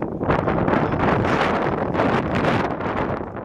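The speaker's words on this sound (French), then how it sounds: "il y a beaucoup de vent." Strong, steady wind on Parliament Hill in Ottawa buffets the microphone with a dense, roaring rush that never lets up.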